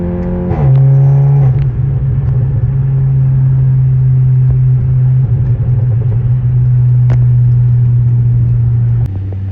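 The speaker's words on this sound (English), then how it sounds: "it is the best feeling ever once those turbos hit" A 2019 Volkswagen Arteon with a 420HP turbo engine accelerating on a mountain road, heard from inside as a loud, steady, droning engine note with road rumble underneath, holding for several seconds before easing off at the end.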